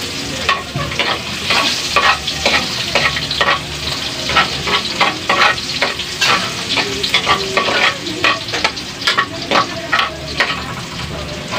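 Garlic frying in hot cooking oil for a vegetable dish, a loud, steady sizzle that fills the whole stretch, with repeated scraping stirs over it.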